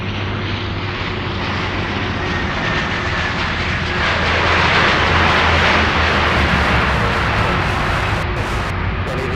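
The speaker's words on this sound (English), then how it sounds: "Big 747 on short final." A Boeing 747 airliner on short final approach makes a broad, continuous engine roar that swells louder midway and holds, heavy and close, with no voices.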